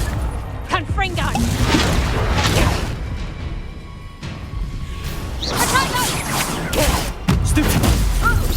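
Confringo blasting curse in Hogwarts Legacy, loud whooshing blasts and crashing impacts amid battle noise, with a voice shouting over the chaos.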